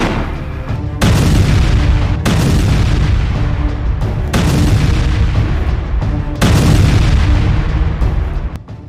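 Mortar shells explode in an attack in Jabalia, Gaza, sounding as a series of loud, heavy booms in quick succession, each with a long rumbling tail, close and with no talking.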